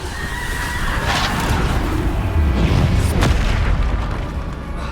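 Bombarda spell explosions in the Hogwarts Legacy video game: loud, booming blasts that roll into a sustained heavy rumble with crackling debris, all close and dense.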